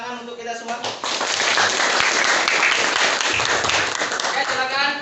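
A classroom of students bursts into loud, sustained group clapping after singing together; a teacher's voice is heard briefly before and after the applause.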